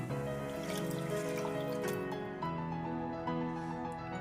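Kudampuli soaking water poured into a salmon curry in the pan, a soft continuous trickle and splash with a faint sizzle, fairly close and steady throughout.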